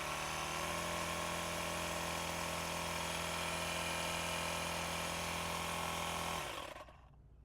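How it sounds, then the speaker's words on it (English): A Lasfit portable smart air inflator runs with a loud, steady motor buzz close by, holding one even tone before cutting off abruptly near the end, leaving quiet. "start your air inflator, and it will automatically shut off once it reaches the desired PSI"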